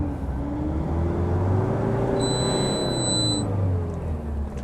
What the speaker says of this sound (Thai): ลองเร่งรอบให้ดูนะครับ